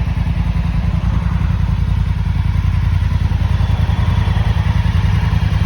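A loaded motorcycle on a road tour of Corsica idles steadily up close, its engine giving a continuous low, throbbing rumble with a light clattery edge throughout.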